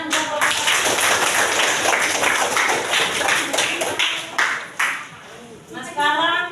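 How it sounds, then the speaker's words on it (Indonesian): Dense, steady applause from students at a junior high school presentation on composting waste, loud and continuous before thinning out near the end, with a voice briefly audible. "Tepuk tangan."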